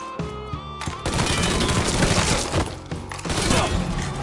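Rapid bursts of gunfire in the Mafia 3 video game, loud and close, with dense overlapping shots and impacts layered over a background music track.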